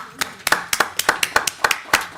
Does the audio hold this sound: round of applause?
yes